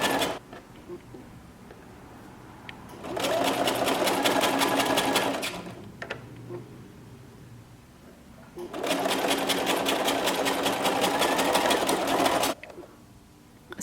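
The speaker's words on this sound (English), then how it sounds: "we'll just carefully sew this around the entire neckline edge" A sewing machine stitches binding around the neckline of a knit tee in two long, steady runs of rapid needle clatter, separated by quiet pauses where the fabric is repositioned.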